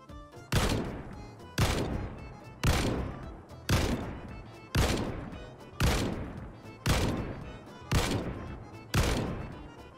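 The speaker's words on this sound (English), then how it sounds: "Using the M14 as an example, here are 10 shots with and without the recoil pad side by side" Ten M14 rifle shots fired in Project Zomboid, with and without a recoil pad, ring out as evenly spaced loud single cracks about a second apart, each decaying into a short reverberant tail, with no talk.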